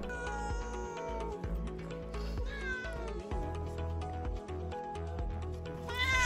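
Young stray cat meowing repeatedly and insistently up close, a string of loud, wavering cries with short pauses between them and a rising call at the end.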